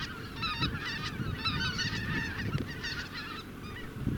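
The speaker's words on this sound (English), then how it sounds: "the birds who fly in groups often communicate with each other" A flock of migrating geese honks and calls to one another in flight, a dense overlapping chorus of nasal honks at moderate distance that carries on steadily with no talk.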